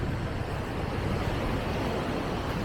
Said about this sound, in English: I do love the sound of the waves